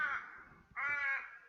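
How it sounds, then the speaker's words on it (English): An Australian raven calls twice: two long, drawn-out, wailing caws, the second louder and sliding down at its end, close and clear against a quiet background. "If you hear that, it's probably Australian raven."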